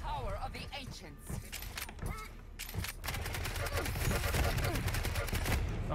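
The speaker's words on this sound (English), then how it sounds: "Oh, she got a shotgun." Shotgun fire in Quake Champions, repeated sharp bursts growing denser and louder over busy game sounds, with voices talking throughout.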